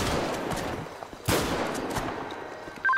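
Police beanbag rounds fire in a sharp loud shot around the middle and another at the end, over a noisy street scene with background commotion.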